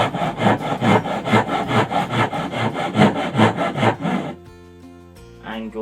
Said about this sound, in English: you just get your tenon or dovetail saw, cut a bit in from the line